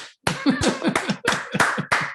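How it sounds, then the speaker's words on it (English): A small group claps in uneven bursts for a guest speaker at an online entrepreneurship talk, several short rounds of close hand claps over about two seconds. "let's give Katie a round of applause."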